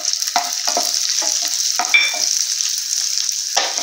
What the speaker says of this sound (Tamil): நெய் உருகினதுக்கு அப்புறமா நம்ம கிஸ்மிஸும் முந்திரியும் நம்ம இதில் போட்டு வறுத்து எடுத்துக்கலாம்